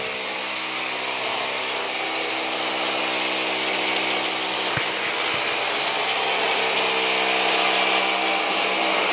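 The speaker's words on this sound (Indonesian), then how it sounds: "Oh, ini lagi ngebor tembok ya." Power drill boring into a house wall during pipe installation at a residential construction site, a steady loud grinding whine running throughout with no talk.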